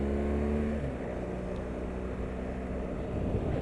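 A car accelerates steadily to overtake on an open road, its engine drone loud and continuous throughout with a slight rise in pitch early on.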